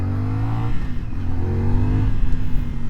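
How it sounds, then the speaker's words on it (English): A CFMOTO 450SS sport bike's engine pulls hard under acceleration, rising revving tones sweeping upward twice, loud and close throughout. "pretty good pull for a 400cc bike"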